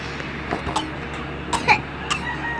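Several short, raspy coughs close by, scattered irregularly over a few seconds against quiet background noise.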